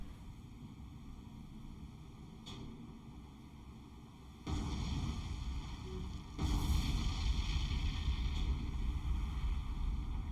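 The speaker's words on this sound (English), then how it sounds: "and a cargo explosion." A cargo ship explodes in the naval video game War on the Sea, heard as distant, muffled booms that swell into a sustained low rumble.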